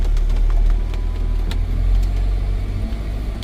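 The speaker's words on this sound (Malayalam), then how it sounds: "ഇപ്പോൾ ഗിയറിലിട്ട് ലോ റേഞ്ച് ഗിയറിലിട്ട് പയ്യെ അങ്ങ് ക്രോൾ ചെയ്ത് ഇറങ്ങുക." A Mahindra Thar in low-range gear crawls slowly down a rough, badly broken road near a tea estate, its engine a steady, close, low rumble with no voices over it.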